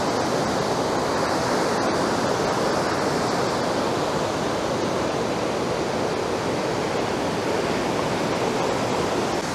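Maranong Falls, a waterfall in Natividad, Pangasinan, roars as a steady, dense wash of rushing water that stays close and loud and unbroken for the whole span, with no voices over it.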